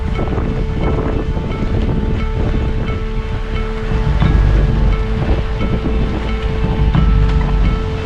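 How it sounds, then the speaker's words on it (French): A 40-knot squall roars across a sailboat in the mid-Atlantic. Loud, constant wind buffets the microphone, and waves surge and splash around the hull throughout. "ça c'est un grain au milieu de l'Atlantique ça. 40 nœuds"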